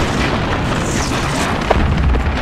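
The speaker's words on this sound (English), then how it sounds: "let's blow this fence!" Explosive charges blow through a fence on a beach assault in the World War II shooter Medal of Honor: Frontline, a dense, loud rumbling boom amid continuous battlefield noise and distant artillery, with no voices heard.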